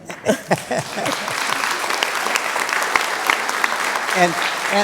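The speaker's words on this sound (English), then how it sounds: "Are you clapping for me or for him?" Applause breaks out from an audience at a talk, swelling into sustained clapping with a few cheers, while voices speak briefly at the start and again near the end.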